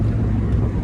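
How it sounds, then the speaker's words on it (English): Wind roars and buffets around an open-top Mazda MX5 Miata driving at about 60 mph, a steady, loud, low rumble with no voices. "because of the wind"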